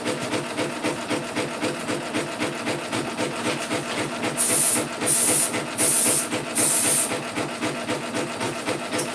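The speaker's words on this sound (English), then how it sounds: "Okay, so now that's all sprayed." Aerosol spray can hissing in four short, even bursts while decorating a pumpkin lantern in an embroidery hoop, loud and close over a steady rasping background.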